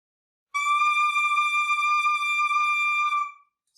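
One very high, pure saxophone note, altissimo B, is held steadily for about three seconds, clear and alone, then tapers off.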